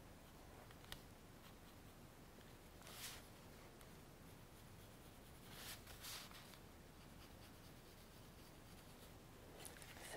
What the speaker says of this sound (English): for these ears, I'm going to sketch out kind of where I want them to be